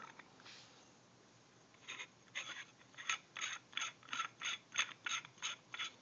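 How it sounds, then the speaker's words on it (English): A barrel being screwed onto a 2011 Azodin Blitz paintball marker's autococker threads, giving a faint series of rhythmic ratcheting, scraping clicks that quicken and grow steadier toward the end, close up and quiet. "Go ahead and attach that to the gun."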